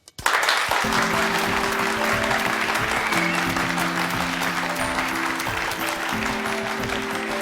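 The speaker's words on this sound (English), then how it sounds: "Big round of applause, please" A school audience at Harrop Fold School breaks into loud, sustained applause for Rebecca, the new head girl, with many hands clapping continuously over a low tonal hum in the room.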